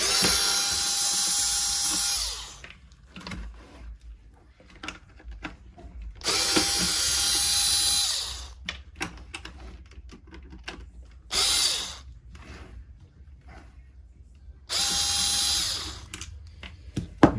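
A Torx driver whirs out screws from the rubber neck joint of a Dyson Laser Slim Fluffy / Detect Slim vacuum. Four separate bursts of high whirring are broken by quiet gaps with small clicks and taps.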